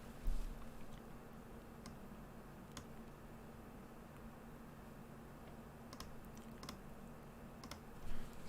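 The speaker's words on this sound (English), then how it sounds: "Let's type stamina." Quiet clicking of keys on a computer keyboard, sparse irregular taps over a steady low room hum, with no speech.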